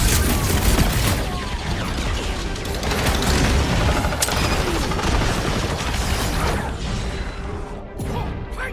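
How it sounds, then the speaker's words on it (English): Sustained dense gunfire and crashing impacts from a Guardians of the Galaxy video game battle against a big bug, a loud continuous barrage of shots and booms with no pauses. "Feels like I've been shooting that big bug for hours!"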